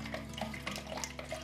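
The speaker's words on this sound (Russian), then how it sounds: "Перемешиваем." Maggots are stirred around in a container of water, giving brief, repeated sloshing and swishing strokes in a quick, uneven rhythm, close and fairly quiet.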